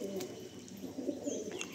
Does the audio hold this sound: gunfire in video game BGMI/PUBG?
no